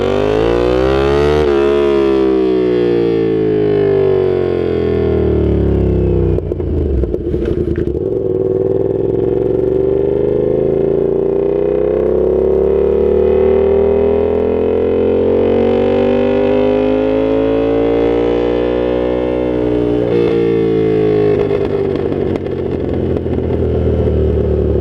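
Yamaha FZ-07 (MT-07) motorcycle fitted with a Danmoto XG-1 full-system exhaust, heard up close and very loud on trailing throttle, its engine note swooping down and climbing again through long deceleration and rev sweeps.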